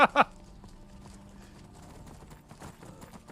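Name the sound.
horse hooves clip-clopping in video game Skyrim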